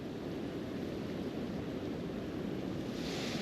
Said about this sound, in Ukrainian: Вітер дме ще більше.